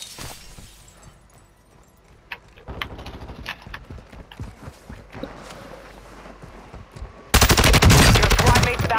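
An LMG in Call of Duty MWII rattles out a loud, rapid sustained burst at the end, following scattered shots, footsteps and mechanical clatter in the game.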